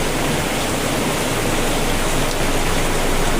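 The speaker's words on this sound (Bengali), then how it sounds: "প্রচুর বৃষ্টি হচ্ছে, প্রচুর পরিমাণে।" Heavy rain pours down outside in a dense, loud, constant hiss that never lets up, with no other sound above it.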